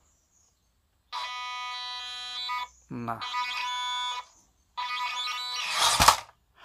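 The electric motor of a JJRC Q65 Willys Jeep 1:10 scale RC car whines in three high-pitched buzzing bursts, the last rising and harsher, with a short spoken word between them.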